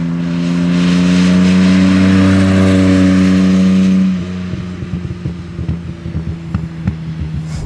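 A Jaguar SS 100 with a 4.3-litre six-cylinder engine, about 200 hp, revs up in a loud, steady, throbbing drone for several seconds, then settles into a lumpy, pulsing idle, close by and without talk.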